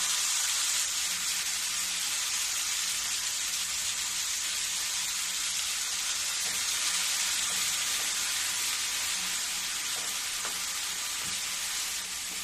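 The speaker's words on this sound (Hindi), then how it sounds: "सरसों इसलिए डाल रही हूँ कि ये पहले ही भूंजी जाती है" Mustard seeds fry in oil in a pan for a stuffed mango and bitter gourd dish, giving a continuous close sizzling hiss. Faint scattered pops and stirring sounds run through it, and no voices are heard.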